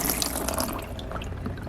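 Water pours and splashes steadily out of a reptile tank tilted over so it drains through holes in the top, a loud continuous gush that thins slightly toward the end.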